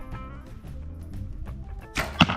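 Arrow fired in an archery competition, a sharp impact thwack near the end after a stretch of steady background tone.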